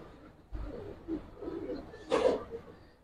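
Silver khaki pigeons coo softly in a few low, throaty calls, close by against light background noise.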